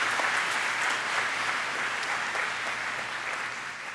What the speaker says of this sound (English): Let's give them all a round of applause for this graduation.